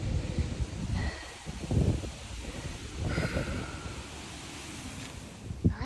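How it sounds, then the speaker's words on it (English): Wind gusting across an exposed Appalachian Trail mountain ridge near Knife's Edge, a continuous broad rush buffeting the microphone, rising and falling in strength and close throughout, with no talking. "A little breezy."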